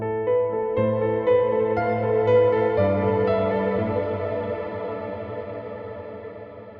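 Sustained tonal notes play through a Valhalla Shimmer reverb plugin set to high diffusion. Stepped chords ring with a chorused, washed-out tail that slowly fades toward the end.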